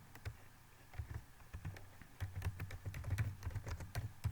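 Keystrokes on a computer keyboard while C code is typed, a steady run of quick close clicks and taps with brief pauses and no voices.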